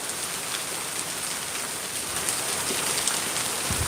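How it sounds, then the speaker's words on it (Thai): Heavy rain pours steadily on surfaces in Pattaya after falling all night, a dense, even hiss that fills the whole clip with no voices. "ที่เมืองพัทยานี่ ตอนนี้กำลังตกนะครับ ถือว่าตกหนักนะครับ"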